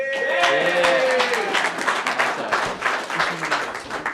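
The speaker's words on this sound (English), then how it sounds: "Give yourself a round of applause" A crowd claps in a dense, continuous burst of applause, with a voice briefly rising over the start and cheering mixed in.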